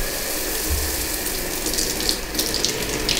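Shower water pours steadily over a person's head and hair indoors, a close, even hiss with faint clicking and no voices.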